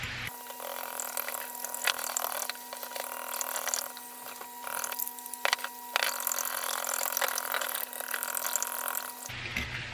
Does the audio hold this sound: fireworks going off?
no